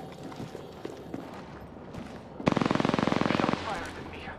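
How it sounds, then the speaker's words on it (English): Rapid automatic gunfire in Apex Legends, a loud sustained burst of about a second after quieter scattered shots and background game ambience. "Shot fired at me."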